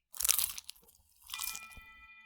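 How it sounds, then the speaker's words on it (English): Naked mole rat crunching an insect between its teeth: two loud, close, crisp crunches, each followed by brief crackling, with no talk. "She dispatched him quickly between her teeth with a loud crunch."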